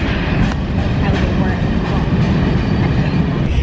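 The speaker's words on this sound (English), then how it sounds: "Oh, I've never seen a train like that." A train rolls past close by with a loud, steady rumble and rattling clatter of wheels on rails. Background noise from a trip into London surrounds it.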